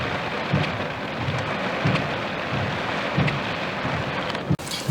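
Steady rain pours over Lake Arthur with wind gusting, a dense, even hiss of falling water that stays loud and constant throughout, with no voices.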